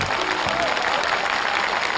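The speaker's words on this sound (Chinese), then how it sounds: "鼓掌。" An audience claps throughout a televised studio show, a dense burst of applause filling the short moment without pause.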